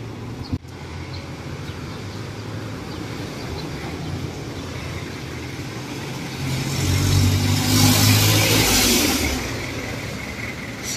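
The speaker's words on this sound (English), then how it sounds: "Jeepneys are speeding down the road." Jeepneys and cars speeding along a road through a school zone in Olongapo City, a steady outdoor traffic rumble that swells as a vehicle roars past near the end, with a brief sharp knock early on.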